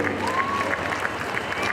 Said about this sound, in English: big round of applause for these ladies